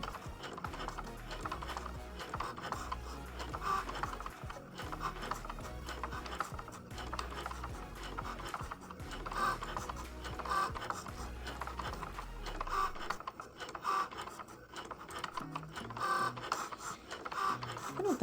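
Cricut Joy cutting machine writing with a Sharpie pen adapter, a busy whirring and clicking mechanism with rhythmic motor movements and small chirps running throughout, close and steady.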